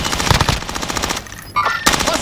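Rapid automatic gunfire from a heavy-recoil gun in a Call of Duty Plunder match, loud sustained bursts broken by a short pause, with faint voices in the background.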